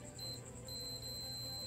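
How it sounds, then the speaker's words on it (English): An electrical continuity tester gives a thin, steady electronic beep, used on a Suzuki Samurai SJ410/SJ413 during clutch work. It sounds in two stretches with a brief gap between them, faint over a low background hum. "we can hear it if we get a beep when I push the button in"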